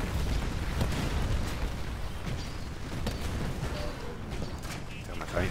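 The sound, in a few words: explosion in video game Titanfall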